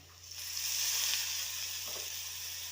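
Food fries in a spoonful of oil in a pan, a bright, steady sizzle that swells and crackles for a few seconds over a low background hum, with no talking.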